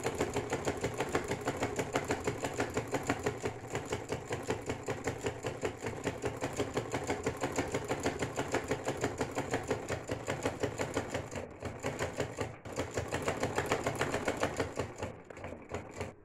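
A domestic sewing machine stitches white cloth piping along the front and back of a baby frock, running in a fast, steady mechanical patter. It stays close and continuous, with only brief dips near the end and no talking.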